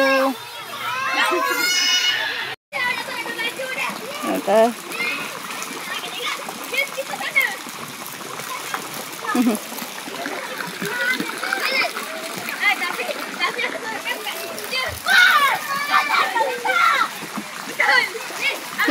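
Children splash and play in a river at a riverside pizza café in Nilai, with repeated watery slaps and splatters mixed with a steady stream of excited kids' voices and chatter.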